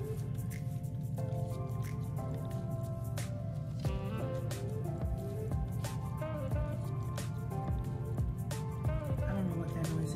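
A washing machine churns clothes in the background, giving a steady sloshing, squishing and dripping of water with faint mechanical hum, moderately quiet and continuous.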